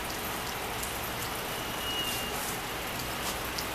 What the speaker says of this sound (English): It's been a little bit rainy this morning, some real light rain, mist and rain